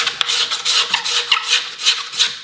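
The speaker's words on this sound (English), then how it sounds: "It's just to scrape it a little bit to make sure that it's smooth." Cello ribs being scraped smooth with a hand scraper, a close, loud series of rhythmic rasping strokes about three per second, continuous and with no talking.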